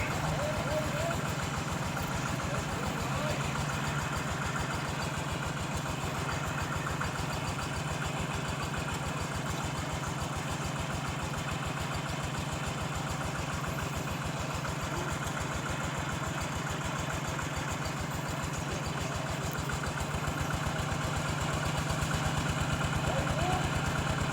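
A water pump engine draining a fish pond in rural Sisaket, Thailand runs at a steady, loud idle with an even knocking rhythm, unchanging and continuous throughout.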